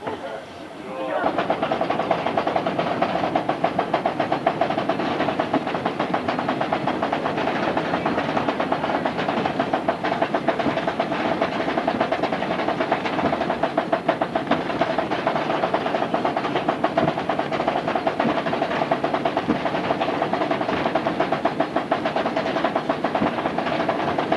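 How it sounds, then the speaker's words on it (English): A train passes close by as a long, continuous rumble with rhythmic wheel clatter, loud and steady for the whole stretch after a short quiet start. "Hey, here comes another train."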